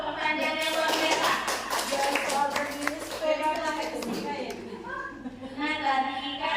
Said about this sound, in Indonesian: kita tepuk tangan dulu untuk pertanyaan yang luar biasa